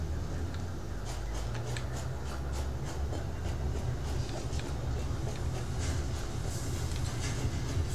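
Trains running in the factory-building video game Satisfactory, a steady rolling rumble with faint repeated clicks, continuous and even throughout with no talking.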